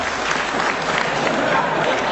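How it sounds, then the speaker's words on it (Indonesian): At a cultural discussion forum at a university, the audience claps in a dense, continuous wash of applause, steady and fairly loud, with a murmur of crowd noise beneath. "Nah, tepuk tangan"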